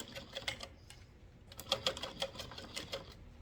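A sewing machine stitching a zipper pouch runs in short, quiet bursts of rapid ticking, pausing between runs as the fabric is repositioned.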